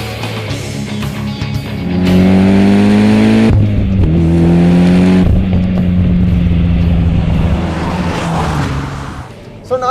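Tuned 2013 Mitsubishi EVO X engine revving loudly and up close: a sustained throaty drone climbs in pitch, drops and then climbs again, holding steady with no talk over it.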